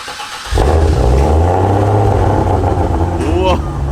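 A Ford Barra engine in a car starts up and holds a loud, deep, rumbling idle close by, with a short rev near the end and people talking over it.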